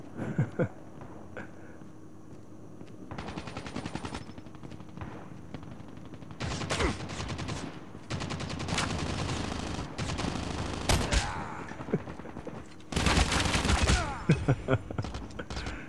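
Bursts of rapid sniper rifle gunfire in a video game crack out in several volleys, loud and close, with gaps of quieter game ambience between them.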